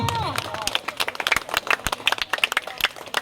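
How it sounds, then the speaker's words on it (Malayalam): A crowd claps and cheers for swimmers of a swimming club arriving after a long open-water swim, a quick burst of scattered claps with voices calling out over it. "അവർക്ക് വേണ്ടിയിട്ട് നല്ലൊരു കൈയടി കൊടുക്കൂ"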